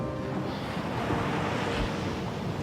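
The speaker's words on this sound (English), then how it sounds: "those waves are breaking right in now." Ocean waves break right onto the shore in a steady, roaring wash of surf, loud and close, with wind rushing across the microphone throughout and no voices.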